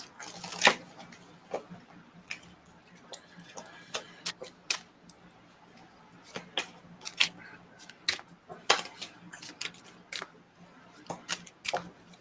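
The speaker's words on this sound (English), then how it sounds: "Let's pull some oracle cards as well." Oracle cards are shuffled by hand in uneven bursts of sharp, close riffles and flicks with quiet gaps between, and no one speaks.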